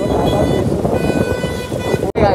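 Dense, steady rain roars throughout, broadband and loud, with a brief sharp dropout near the end before the downpour resumes.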